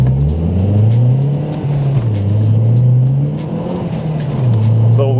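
A stock MazdaSpeed 3 pulls hard from 30 to 70, its engine note climbing and dipping through gear changes in a loud, steady drone heard from inside the car.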